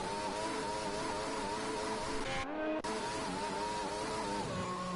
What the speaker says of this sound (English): How to blow an engine.